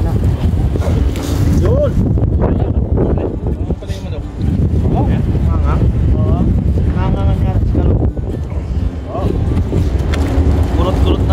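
Wind sweeps across a rooftop, a low, rumbling buffet against the microphone that carries on nearly throughout while people talk over it.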